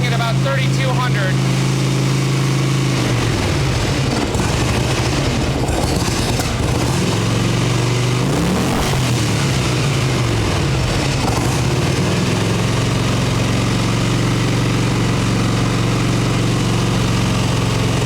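A 1989 Harley Ultra Classic Tour Glide engine idles high on full choke, a loud, steady close-up drone with a brief shift in tone partway through, while someone talks over it.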